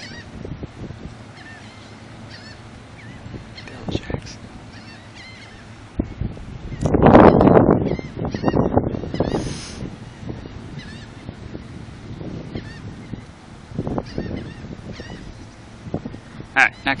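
Geese honking outdoors near water on a windy day, a loud cluster of honks in the middle with scattered fainter calls before and after, over wind noise and brief voices.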